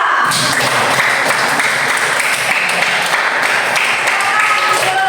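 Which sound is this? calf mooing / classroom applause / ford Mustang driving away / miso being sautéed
classroom applause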